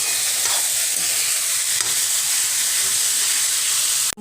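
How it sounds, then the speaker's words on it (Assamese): Beetroot stir-fry seasoned with salt and turmeric powder crackles in a pan, a steady bright hiss of frying with faint stirring, close by and without speech, ending in a sharp knock. "এতিয়া মই এইখিনি আকৌ এবাৰ মিক্স কৰি লৈছো"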